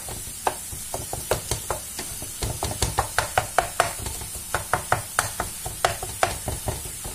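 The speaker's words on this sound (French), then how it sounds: "Je mélange un peu. Et je n'hésite pas de faire comme ça avec ma cuillère en bois." Wooden spoon stirring minced meat with vegetables in a pan, a steady run of soft scraping knocks repeating about twice a second over a faint low sizzle, close and moderately loud with no talking.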